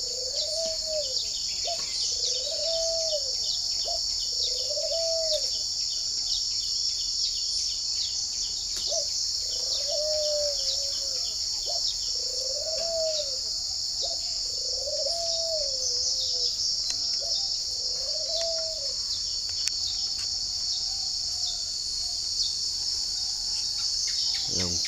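A caged songbird, a hồng bird, repeats short arched whistled phrases in an evenly spaced series over a loud constant insect-like hiss, moderately near, with no voices.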